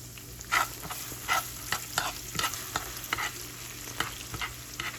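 Cube steak sizzles in a pan under a steady frying hiss, punctuated by regular scraping and stirring strokes about every half second to second, close up with no talk.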